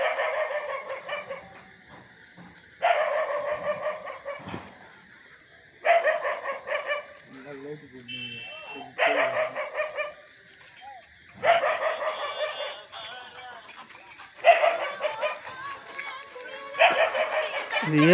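Dogs bark repeatedly at night along a deserted lakeside street, sharp barks recurring in bursts every few seconds, with someone talking in between.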